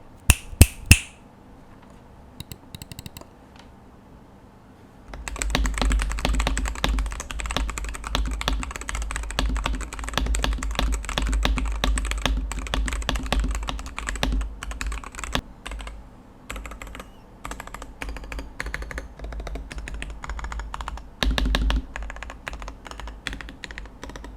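A few sharp clicks, then a long run of rapid, steady mechanical keyboard typing with keystrokes muted by plasticine dampening, close and continuous with no talking.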